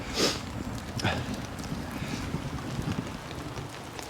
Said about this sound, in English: Till the rain woke me up.